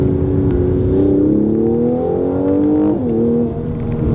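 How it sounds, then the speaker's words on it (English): A 2018 Mercedes-AMG C43 Coupe 4MATIC in Sport Plus mode revs loudly and steadily from inside the car, its exhaust note climbing through rising pitch sweeps with a brief dip near three seconds. "Exhaust is louder, the car feels more, you know, angry."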